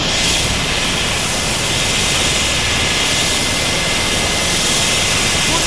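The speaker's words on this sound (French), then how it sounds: "Regardez notre bel hélicoptère." Loud, constant roar of a helicopter engine up close during a ride in Vendée, France, a dense unbroken whine and rumble with no speech.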